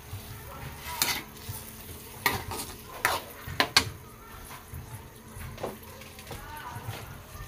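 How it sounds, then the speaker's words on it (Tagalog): A spoon stirs sweet adobong pusit, squid simmering in a pan, with irregular scrapes and clinks over a steady low bubbling and sizzle, close and moderately loud. "Nakakulo na po, pwede na po nating haluin."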